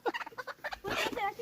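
Chicken on a homestead clucking and squawking in a quick burst of sharp calls, close and fairly loud, ending in a longer agitated flurry, with people talking nearby.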